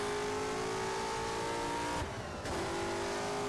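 Race car engine in the rFactor racing sim accelerating hard, a loud, raw, steady high-pitched whine that climbs, cuts out briefly for a gear change, then keeps pulling.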